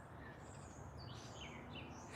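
Wild birds sing faintly outdoors in the morning, thin high chirps and trills drifting over a low steady background hum, distant and quiet with no voices.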